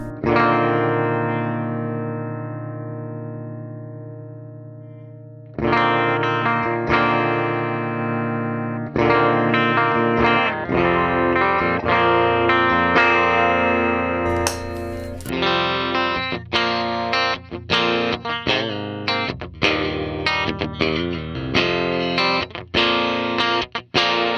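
An electric guitar played through a GE250 amp modeler on a clean tone: a sustained chord rings out, then rhythmic strummed and plucked chords follow, bright and up close, with a chorus-like shimmer and no voices.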